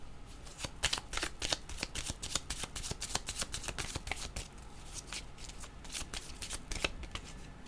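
A deck of cards is shuffled during a card reading. Rapid, crisp riffles and flicks repeat steadily and close by, with no talking.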